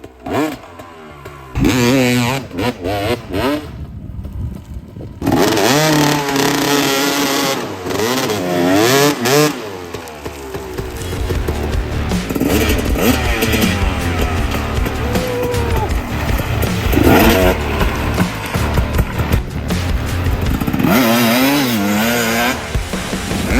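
Dirt bike engines on a riding compound rev hard and loud nearby, with rising and falling throttle sweeps overlapping through most of the stretch and a few quieter gaps early on.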